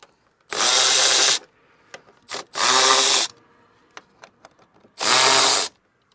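A power drill runs in three short, loud bursts of about a second each, backing out the 7 mm screws on a Cadillac CTS headlight cover, with small clicks and handling noises in the quiet gaps.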